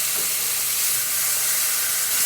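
Beef for keto barbacoa sears in a pan, giving a continuous, even, hissing sizzle that stays close and steady throughout, without talk.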